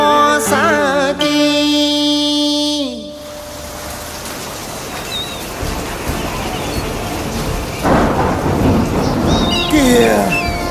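Thunderstorm with rain, rolling thunder and steady rainfall building into a loud, continuous wash, following a sustained musical passage at the start.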